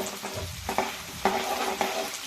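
Curry leaves and other chivda ingredients fry in hot oil and get stirred, a close, crackling sizzle with brief scraping bursts as they are moved around the pan.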